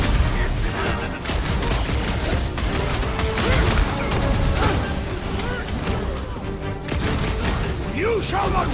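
Dense, continuous gunfire and explosive booms from a battle in Marvel's Guardians of the Galaxy, loud and close, with mechanical clatter and voices talking over the barrage.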